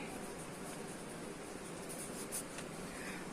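A pen writing out an answer on paper during a lesson, giving a faint, steady scratching under a low hiss with no talk.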